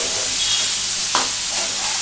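Boneless chicken being sautéed in a pan sizzles with a constant broad hiss, broken by one short spatula scrape midway, close and loud, no talking.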